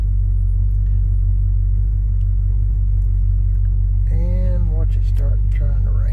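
A Chevy Squarebody pickup truck engine rumbles low and steady up close while backing up, with a brief voice near the end.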